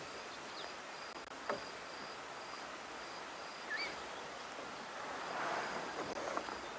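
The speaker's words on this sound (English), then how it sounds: "there is a deafeningly loud, high-pitched hum. That's mosquitoes." Mosquitoes on an evening safari at sunset give a faint, thin, high-pitched whine that runs steadily through quiet outdoor ambience, with a few soft rustles and distant sounds.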